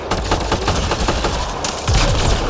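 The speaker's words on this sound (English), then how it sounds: "I'm just seeing how the sticky grenades work." Sticky grenades explode in rapid succession during Mass Effect Andromeda combat, a loud, dense run of sharp blasts and crackling gunfire-like bursts that swells again near the end.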